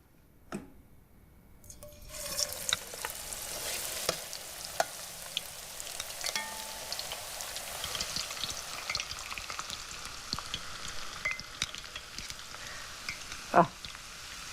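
Vegetables dropped into hot oil start deep frying after a quiet moment, a steady busy sizzle with scattered pops and crackles continuing close up to the end.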